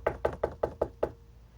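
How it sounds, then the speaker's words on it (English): Six evenly spaced knocks on a wooden door, close and crisp, then the room falls quiet. "So when Little Red knocked on the door,"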